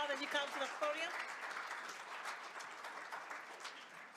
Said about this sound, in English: Let's give Commissioner Clark another round of applause as you come to the podium.